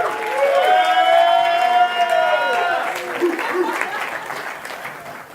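A live event audience responds on an applause-o-meter with loud, dense clapping and cheering that swells early and then tapers off, with excited shouts and voices mixed through the crowd.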